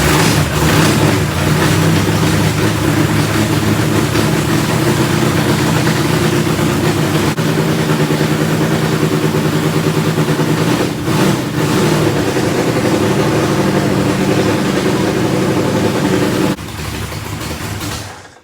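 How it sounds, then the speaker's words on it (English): NASCAR Winston Cup Buick race car with its engine cranked, settling into a loud, steady idle close by, a dense low rumble that runs unbroken before dropping slightly in level near the end. "We're going to crank the motor up and just make sure we're getting 12 volts out of the alternator"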